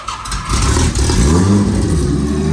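A J37 engine in a sand rail buggy fires up and revs loudly and close, settling into a steady rough roar.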